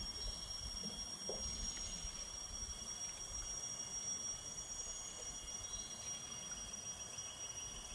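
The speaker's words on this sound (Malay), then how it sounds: "Bunyi-bunyi unggas-unggas ni." Jungle insects keep up a steady, shrill, high-pitched drone along a large river in Taman Negara, Pahang, heard during a boat trip toward Lata Berkoh. The buzzing is continuous and moderately faint, with no talk over it.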